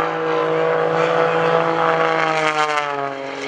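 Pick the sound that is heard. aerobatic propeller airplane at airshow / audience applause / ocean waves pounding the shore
aerobatic propeller airplane at airshow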